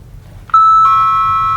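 A doorbell chimes two clear tones, a higher note followed by a sustained lower one, ringing loud and close over faint background hum.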